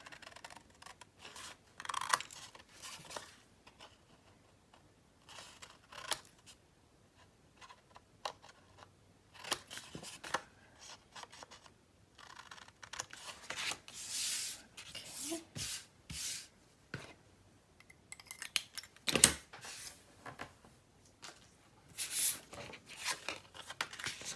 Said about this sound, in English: Trim the corners, just making a standard pocket here.